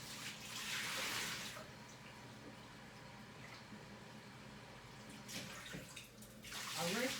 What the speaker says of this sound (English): I rinsed off my broccoli over here